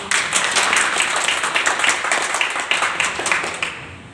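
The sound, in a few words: audience applauding at a meeting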